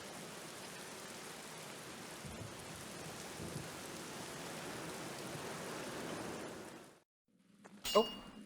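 Rain in the video game Black Mirror, an even soft hiss that runs steadily and then cuts off abruptly into near silence, after which a brief faint clatter is heard.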